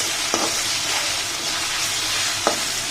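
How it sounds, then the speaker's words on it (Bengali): Potatoes dusted with turmeric fry in oil in a pan over medium heat. A steady, loud sizzle runs throughout, broken by two brief scraping stirs. "আলুটাকে এইভাবে ভেজে নিব"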